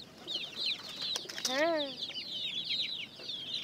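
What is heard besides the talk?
white chickens clucking on a farm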